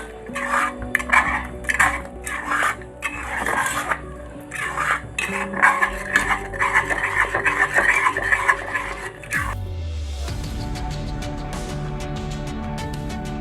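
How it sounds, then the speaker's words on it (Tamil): Metal spoon scraping and clinking against a pan while wheat halwa is stirred with ghee and oil, rhythmic repeated strokes that stop partway, followed by a softer frying sizzle. "ஆயிலும் ஊற்றி வச்சு நெய்யும் ஊற்றி வச்சு கிண்டிகிட்டு இருக்க வேண்டியதான்."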